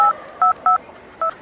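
Four short touch-tone dialing beeps from a telephone, one longer tone and then three quick ones, separated by pauses, clear and close over faint background hiss.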